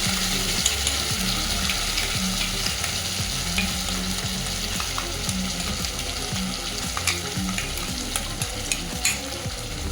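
Paste of green chili, onion, ginger, garlic and cashew frying in a pan: a dense, constant sizzle with bubbling and frequent stirring scrapes, loud and close throughout.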